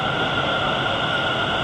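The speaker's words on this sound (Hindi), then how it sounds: "मेट्रो आ गई है, मेट्रो निकली" Steady broadband rumble and hiss of a Delhi metro train at a station platform, continuous and fairly loud with no voices.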